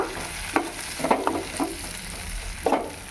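Curry leaves and garlic frying in oil, several stirring clatters and scrapes over a continuous crackling sizzle, close and fairly loud.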